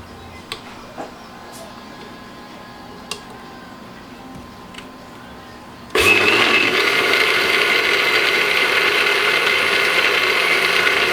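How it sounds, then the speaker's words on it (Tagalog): After a few faint clicks and ticks, a blender suddenly roars to life, whirring loudly and steadily as it blends melted ice cream with a little water. "Para po, hindi mahirapan yung blender natin."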